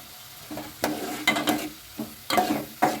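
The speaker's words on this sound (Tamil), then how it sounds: "இந்த ஸ்டேஜில் வந்து 2 ரெட் சில்லியும் நான் பிச்சு போடுறேன்." Torn dried red chillies dropped into hot oil in a pan while cooking egg noodles, giving several short bursts of sizzling and stirring in quick succession, close and moderately loud, with no voices.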